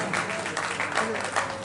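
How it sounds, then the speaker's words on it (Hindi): Loud applause from an audience at a devotional bhajan program in Darbhanga, continuous dense clapping throughout with a faint voice mixed in. "जोरदार तालियों के साथ"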